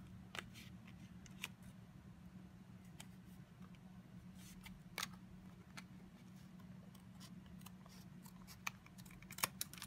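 Scissors trimming the edge of paper card for a folded craft card, with faint, scattered snips and small clicks over a low steady hum, quiet and close.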